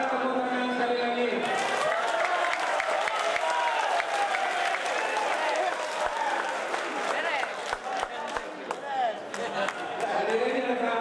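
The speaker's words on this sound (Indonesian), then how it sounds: "Silakan tepuk tangan sekali lagi." An audience at a regency candidates' debate in Aceh Selatan claps steadily in a broad, even wash of applause, with a voice speaking over the clapping and a few sharp knocks and bumps scattered through.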